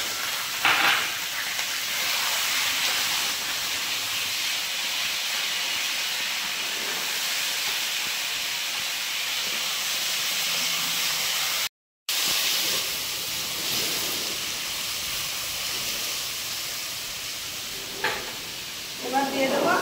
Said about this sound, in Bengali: পেঁয়াজটা আমরা ভালো করে লাল লাল করে ভেজে নেব